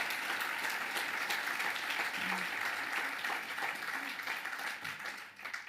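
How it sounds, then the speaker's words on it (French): An audience at a municipal New Year address bursts into steady applause, a dense patter of many hands clapping at moderate distance that gradually thins toward the end. "Et je vous demande donc de les applaudir, que ce soit les élus et les services"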